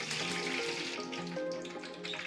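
Fenugreek seeds frying in hot oil for a pumpkin pulusu, a close, bright sputtering sizzle with crackling bursts that holds steady over a couple of seconds, no talking.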